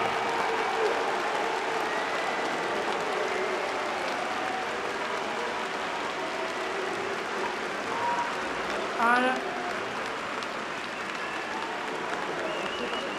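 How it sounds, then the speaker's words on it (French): An audience at a live debate show applauds steadily for over ten seconds, a dense, even wash of clapping with a brief whistle or cheer near the end. "s'il vous plaît, des applaudissements pour François Ruffin!"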